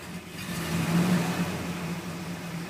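A small gasoline engine, started on choke, runs steadily at a low, even drone with a slight swell in the middle.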